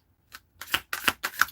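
Four quick crisp bursts of tarot or oracle cards being shuffled, each a short riffling flutter, close and fairly quiet.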